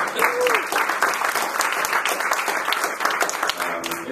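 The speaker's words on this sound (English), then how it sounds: "So I'm going to applaud her." Audience applause at a film festival panel on independent film, a full steady round of clapping in a hall with faint murmurs and voices underneath, loud and even throughout.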